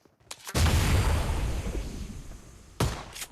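A grenade going off in a PUBG Mobile match, a heavy close boom with a long rumbling tail, followed near the end by a second sharp burst, with no speech over it.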